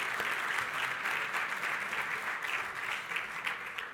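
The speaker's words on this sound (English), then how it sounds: "Give her a huge round of applause" Steady applause from a breakfast meeting crowd honoring Mrs. Pence, a full, even wash of clapping held at a consistent level from start to finish.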